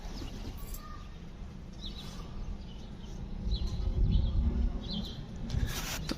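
Homing pigeons coo softly outdoors while wings flutter and rustle as the birds take flight, with scattered chirps and a low, steady background rumble, no voices.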